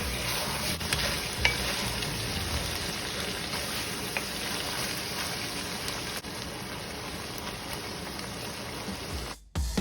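Diced green pepper and jalapeno being stirred into a steadily sizzling pan while cooking lasagna; a continuous close frying hiss with soft stirring scrapes throughout, no talking.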